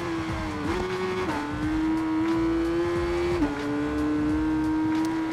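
An old Kawasaki ZRX 1000 motorcycle modified with a very long exhaust pulls hard under acceleration, its engine tone climbing steadily with a couple of brief gear shifts, loud and continuous with no talking.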